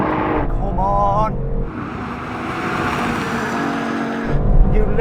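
BMW M2 CS, Mercedes-AMG A45 and Audi RS3 drag racing, with a loud, sustained roar of engines running hard and an excited voice commentating over the noise throughout.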